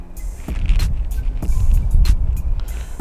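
Mercedes W220 S-Class engine fired by remote start with nobody inside, a loud, near low rumble that settles into an uneven idle with a couple of surges.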